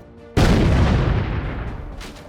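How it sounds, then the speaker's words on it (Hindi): A single loud blast erupts suddenly during an army gunfight with terrorists in Pampore, Kashmir, then rumbles and decays for about two seconds with no talk. "और फिर एक जोरदार धमाके में आतंकियों का नामो निशान इस धूल और धुएं"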